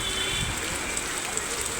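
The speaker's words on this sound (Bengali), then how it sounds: "বৃষ্টিটা আবার বাড়লো, কি আওয়াজ হচ্ছে দেখতে পাচ্ছ।" Heavy rain falls in a dense, even roar of broadband hiss that holds steady throughout without a break.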